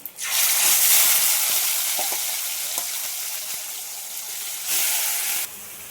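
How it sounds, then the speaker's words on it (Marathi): Fish pieces drop into hot oil with garlic already fried red, in a Konkan-style fish dish, setting off a loud, steady sizzle that swells sharply at the start and again near the end, with no talk. "आता मी सोडते आहेत गेजर मासाचे तुकडे"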